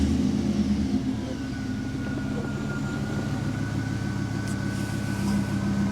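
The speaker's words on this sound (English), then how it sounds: "I'm going to start the truck." Chevrolet Silverado pickup engine, a vehicle with a recurring electrical fault, settling into a steady low idle that fills the clip with an even rumble and faint whine, close and constant, no talk.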